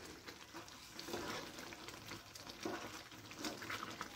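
Carrot halwa simmering and reducing in a pan, giving a steady close bubbling sizzle with soft stirring scrapes throughout, no voices.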